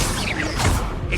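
A spell cast in a Hogwarts Legacy duel on Xbox Series S: a dense, bright swoosh of magic with a low thump in the middle and a second whooshing flare near the end, loud and continuous.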